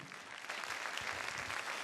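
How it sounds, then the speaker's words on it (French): A studio audience at a televised talent-competition quarterfinal applauds a contestant walking on stage, a dense, steady patter of clapping that fills the whole stretch at moderate volume. "Vous allez l'acclamer pendant qu'elle me rejoint"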